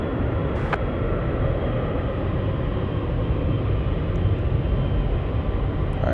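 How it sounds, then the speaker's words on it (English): Military fighter jets, F-35s or F-22 Raptors, passing over Anchorage airport on a windy day, a steady broad distant roar that holds evenly throughout without breaks. "I'm definitely hearing either more F-35s or F-22s"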